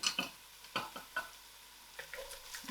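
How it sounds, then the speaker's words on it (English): Onions frying in a pan with whole biryani spices for a masala lamb biryani, heard as a soft sizzle broken by a few sharp clicks and scrapes of stirring, fairly quiet and close with no talking. "I'll allow these onions to fry till it's soft"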